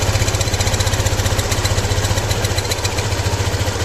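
Suzuki Access 125 scooter engine idling up close during carburetor tuning, a loud steady rhythmic putter with a quick regular pulse and a slight dip in pace midway.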